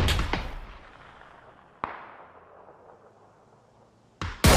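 Sharp gunshots crack at intervals in the video game PUBG, with long echoing tails fading between them, the last burst loud and close.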